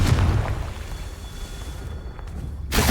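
A Confringo spell explosion in Hogwarts Legacy bursts with a loud, broad boom at the start, settles into a rumbling tail, then a second sharp blast erupts near the end.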